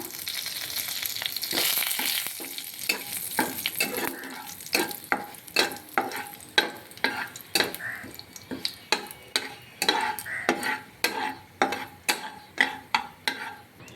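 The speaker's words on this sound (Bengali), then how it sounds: "এবার ওই তেলেই আমি ফোড়নে দিয়ে দিব গোটা জিরে, শুকনো লঙ্কা, তেজপাতা" Whole cumin, dried chilli and bay leaf tempering in hot oil: a bright crackling sizzle at first, then a long run of regular, rhythmic spatula scrapes against the pan, close and fairly loud.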